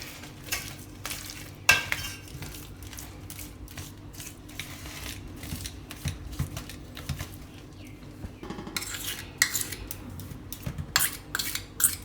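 Sugar is stirred into a mango pickle with a spoon, giving repeated scraping and clinking strokes against the pot in an uneven rhythm, close up and moderately loud, with no speech.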